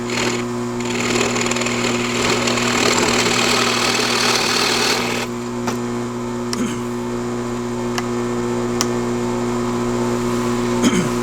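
A drill press runs while drilling wood, a steady motor hum with a busier cutting whine for the first five seconds, then the machine keeps humming on its own with a few faint clicks.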